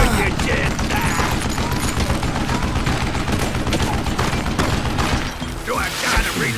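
Heavy gunfire in the Western shooter Call of Juarez: Gunslinger, a continuous fusillade of loud, close shots and echoing booms with shouting voices in the mix, easing near the end as a voice calls out.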